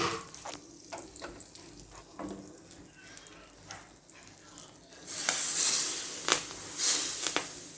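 Asafoetida dropped into warm oil for tempering, with fenugreek and chili already in; a soft sizzle swells up after some quiet clinks and rustles, with sharp crackles on top.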